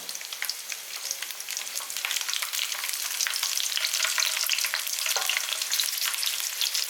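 Steady, crackling sizzle of ginger, green chillies and garlic frying in hot oil in a pan, continuous and close, with occasional stirring scrapes.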